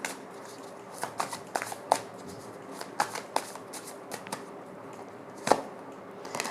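Tarot cards being shuffled by hand, a run of soft riffling flutters and sharp slaps in an irregular rhythm, close and fairly quiet with no talking.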